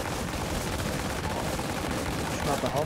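Rapid gunfire from The Division, a PC shooter, aimed at a tank during a hard boss fight in a refugee camp, rattling densely and loudly throughout with game noise and a voice mixed in.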